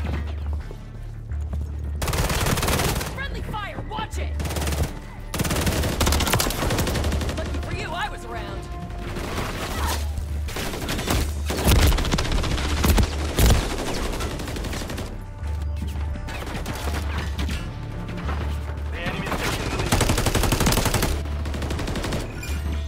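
Gunfire rattles through a gunfight in the video game Modern Warfare 3. Loud rapid automatic bursts and single shots repeat almost nonstop with short pauses, and a voice is occasionally heard over the shooting.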